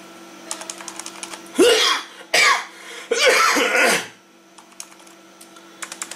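Someone types HTML on a computer keyboard. Quiet, quick keystroke clicks come in bursts before and after several loud, rasping breathy noises in the middle.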